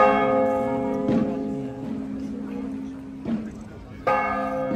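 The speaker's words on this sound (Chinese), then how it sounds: "教堂嘅钟声响起。" Church bells ring loud and close at a Catholic procession in Macau. Several strong strikes come a second or two apart, each leaving a long humming tone that rings on.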